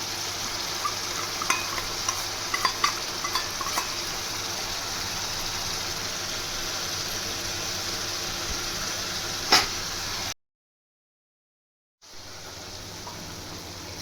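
Chili-infused oil sizzles in an egg curry in a steady, close frying hiss, with soft stirring scrapes and a few clicks, then a brief silent break before the sizzle resumes.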